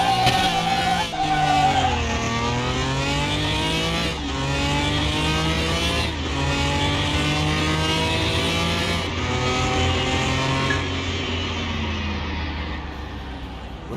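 A standard Ferrari's engine in Car Mechanic Simulator 2021 revs loudly and steadily, its pitch climbing and dropping in several repeated sweeps, close up and alone.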